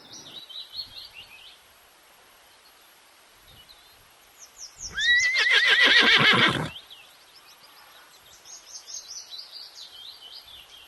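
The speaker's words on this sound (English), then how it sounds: "H for horse." A horse gives one loud, drawn-out whinny that rises and trembles, with birds chirping faintly in the background.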